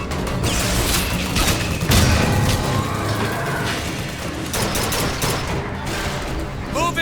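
Rapid bursts of gunfire and crashing impacts fill a BioShock Infinite firefight, loud and continuous, with shouted voices mixed in.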